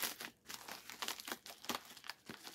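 Crinkling plastic wrapping and paper rustled in short bursts while a mail package is unboxed with scissors nearby, close and fairly quiet, with no talking.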